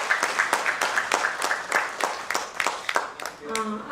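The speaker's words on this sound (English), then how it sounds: "A huge round of applause for Messrs." Applause from the audience at an award ceremony honouring HIL India Limited on World Standards Day, with a presenter's voice heard speaking over steady clapping that fades near the end.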